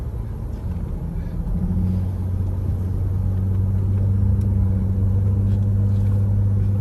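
A vehicle fitted with a Hellwig sway bar and R1 Concept rotors drives on the road, giving a steady low engine and road rumble that holds loud and constant throughout.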